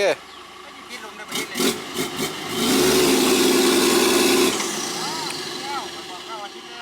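A red dump truck stuck in mud, its engine revving hard and straining in a loud, sustained roar that then eases to a lower rumble, while people talk and shout nearby.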